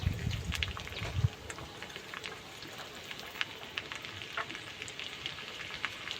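Cumin and chopped garlic frying in hot ghee and white oil, a soft continuous sizzle with scattered small pops and crackles, fairly quiet and close, without talking.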